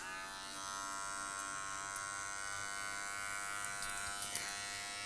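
Electric hair clippers fitted with a 1 guard, blade closed, buzz steadily at close range while cutting hair to taper the neck and sides, a faint even hum with small scraping flickers near the end.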